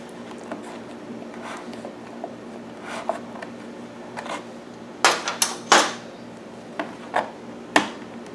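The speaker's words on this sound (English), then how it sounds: "This is a repairman's reamer. It will allow me to ream this hole out a little bit at a time" A repairman's reamer works a hole in a generator fuel kit, giving sharp metallic scrapes and clicks in irregular bursts, with the louder strokes clustered near the end over a quiet room background.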